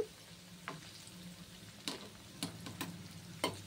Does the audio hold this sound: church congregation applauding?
no